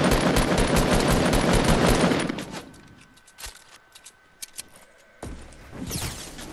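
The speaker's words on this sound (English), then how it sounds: "I just got shot up by somewhere." Fortnite gunfire opens with a loud, sustained burst of rapid automatic shots for about two seconds, then thins to a few sharp, isolated shots and one last short volley.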